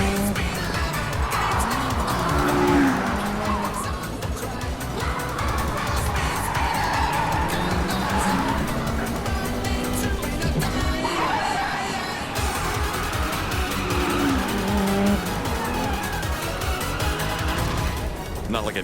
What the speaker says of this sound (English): That's some unbelievable high rev on that engine